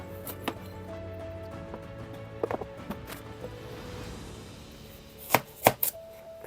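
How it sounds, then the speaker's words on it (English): Hori knife chopping a half-rotten apple into small pieces for a worm farm: a few scattered soft cuts, then several sharp close knocks of the blade near the end. "I'll just find something to cut it up with. Okay, it's going to have to be the hori knife"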